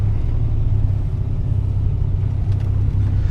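Cold engine of a 1986 Buick T-Type idling, a steady low rumble heard up close that holds an even pitch and level throughout, with no talking.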